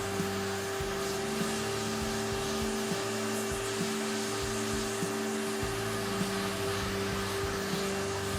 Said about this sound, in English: It's also a good idea to periodically vacuum up the file shavings.